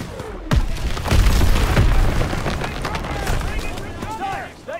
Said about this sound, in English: Gunfire! We must be near our guys.